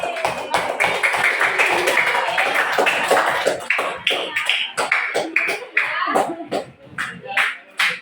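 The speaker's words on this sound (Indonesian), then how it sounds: "silakan tepuk tangan untuk diri kita sendiri" A classroom audience of students and teacher clapping for themselves at the end of a lesson, a dense burst of many hands applauding close by, thinning into scattered claps toward the end.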